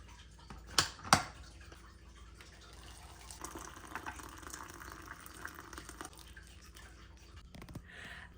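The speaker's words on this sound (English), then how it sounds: "I'm gonna pour some tea." Tea trickles from a pot into a heavily stained cup, a soft, faint pour after a couple of sharp clinks at the start, with no voices.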